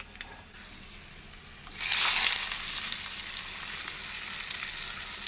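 Hot tempering of cumin, dried red chillies and curry leaves poured into gongura leaves for pickle, a sudden loud sizzle bursting up after quiet and then settling into a steady crackle.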